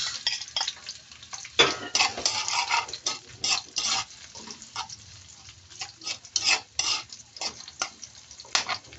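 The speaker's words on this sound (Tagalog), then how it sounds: "Mainit na yung mantika. Lagay ko yung sibuyas." Sliced onions go into hot oil for a sardines with misua and patola dish, giving a steady close frying sizzle broken by frequent scraping and stirring clatter of a utensil against the pan.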